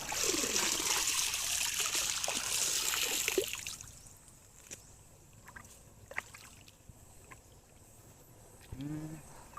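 Water flows with a steady rushing trickle that is loud for the first few seconds and then drops away, leaving faint splashes and small scattered noises.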